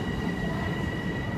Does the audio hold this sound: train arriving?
yes